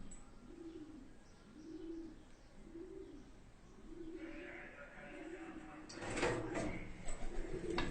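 Belgian and Shami pigeons coo in a steady series of soft, rounded calls, close by, followed by a burst of clattering and rustling toward the end.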